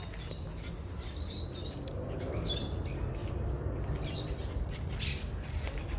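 Four parrots in a park aviary, with repeated high chirps and squeaky calls over a steady background hiss at a moderate distance, and no one talking.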